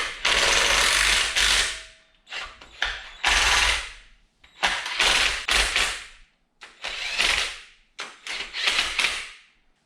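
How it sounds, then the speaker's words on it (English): A hand ratchet tightening oil pan bolts on a 1997 Jeep Wrangler 2.5L engine, loud close bursts of rapid clicking in repeated strokes separated by short pauses, no talk. "I'm gonna hit these right here with the ratchet"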